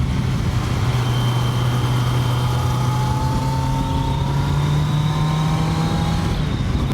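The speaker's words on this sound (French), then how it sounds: "tu as ce moteur qui a son bruit rageur là." A Kawasaki Z900 motorcycle engine drones steadily and close, its pitch slowly climbing as it accelerates, with a rough rumble throughout.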